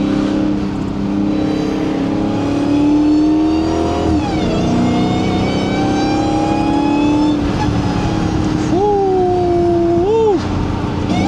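Dodge Charger Hellcat driven in Germany, its engine revving with a rising supercharger whine, the pitch climbing and falling steadily through the run, loud and close, with a brief chatter of voices near the start.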